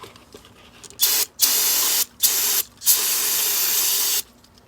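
Short aerosol bursts of carburetor cleaner sprayed onto the outside of a Coleman 10 hp generator carburetor: four loud close hissing sprays, the last one long, separated by brief pauses.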